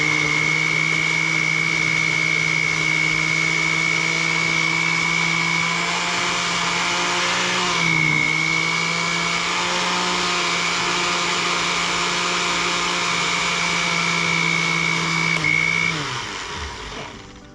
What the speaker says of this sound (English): I'm gonna press blend